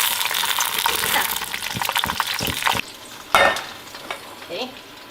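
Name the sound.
chicken frying in very hot oil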